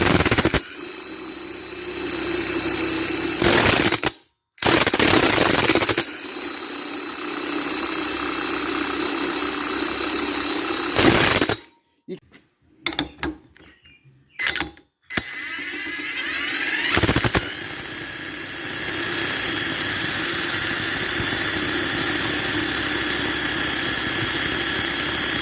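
An Oliver 550 tractor engine runs loud and steady with a harsh, vibrating rumble, briefly cutting out a few times early on before settling into a continuous idle for the rest.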